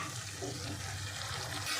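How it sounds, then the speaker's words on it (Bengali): Water running and splashing steadily into a cooking pan that holds ground cashew paste and spices, a continuous close hiss with no talking, while a vegetarian potato paneer omelette curry is being made. "কাজু বাদাম বাটিটা একটু ধুয়ে একটু সামান্য জল দিয়ে দেব"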